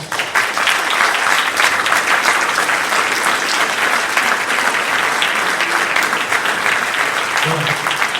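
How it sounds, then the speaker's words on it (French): Loud, sustained audience applause at a national convention of French auctioneers, a dense continuous wash of clapping from a large hall lasting the whole eight seconds. "Et on peut l'applaudir en avance."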